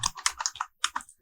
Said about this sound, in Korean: 타이핑을 다 해주세요.